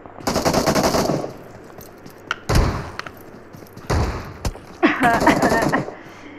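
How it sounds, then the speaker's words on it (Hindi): Shotgun fire in PUBG Mobile, a handful of loud, sharp blasts spaced a second or so apart, with a denser rattling burst near the start and end over steady game ambience. "क्वीन शॉटगन चला रही है"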